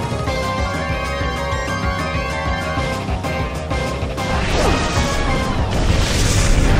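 Smashing attack hit effect from Pokémon Battle Revolution as Snubbull strikes, a dense crashing impact amid game music and noise that swells louder toward the end, with no speech over it.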